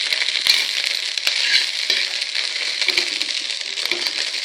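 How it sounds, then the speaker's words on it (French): Rice toasts in a hot pan for shrimp fried rice, a continuous dry sizzle broken by scattered scraping clicks as it is stirred constantly. "Il faut griller le riz. Mais il ne faut pas que le riz se brûle non plus. Donc il faut constamment remuer."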